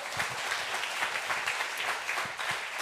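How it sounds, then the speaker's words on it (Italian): Audience applause at a literary prize event in Italy, a dense steady wash of clapping lasting the whole moment, fairly close and continuous with no talk over it. "Fatemi un applauso!"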